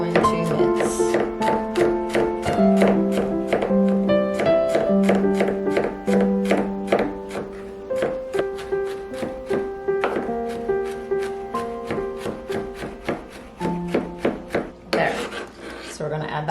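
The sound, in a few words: mincing food with a knife on a board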